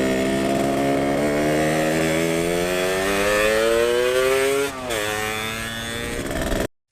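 A Yamaha RX 100 motorcycle engine revs steadily and loudly up close, its two-stroke pitch climbing for several seconds, dipping briefly, then holding before cutting off abruptly.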